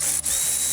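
A ratchet loosening a 10mm nut on a 1996–2004 Ford Mustang with a 4.6L V8, a short burst of quick clicking close by under steady high shop hiss, with no talking.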